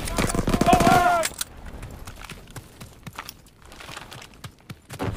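A video game barrage of gunfire, rapid scattered bursts and cracks that continue after a spoken line at the start, moderately loud and irregular in rhythm.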